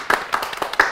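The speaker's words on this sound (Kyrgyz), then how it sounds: "аракет үчүн дагы бир жолу кол чабып коелу" An audience claps and applauds at a live stage show, with a few loud, uneven bursts of hand claps close by over about a second.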